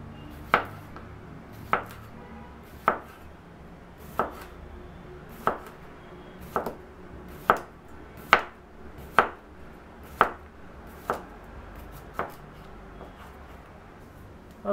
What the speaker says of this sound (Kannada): ಮೊದಲು ಕುಕುಂಬರನ್ನು ಕಟ್ ಮಾಡ್ಕೊಳ್ಳೋಣ.